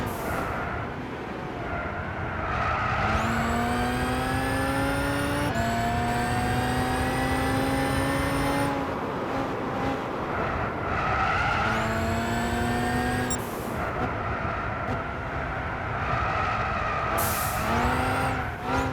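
A 2009/2013 Bugatti Veyron 16.4 with heavy understeer races in Gran Turismo 6, its engine loud and close, repeatedly revving up through gears with rising whines, brief drops between shifts and occasional tire squeal.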